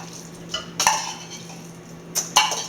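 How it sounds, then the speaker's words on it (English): A metal spoon scraping and clinking against a container while emptying ingredients for veg turkey meatballs, with a few sharp scrapes spaced apart over a steady low hum. "Let me get my spoon and just get everything out of here"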